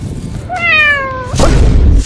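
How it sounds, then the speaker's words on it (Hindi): A single drawn-out cat meow, loud and clear as a played sound effect, followed by a burst of broadband noise and rumble. "अरे साला बिल्ली का क्यों बजा रहा है?"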